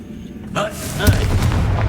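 A Confringo blasting spell bursts in the Hogwarts Legacy video game, with a sharp booming blast followed by a second, heavier explosive hit amid rumbling combat noise, while a voice talks over the action.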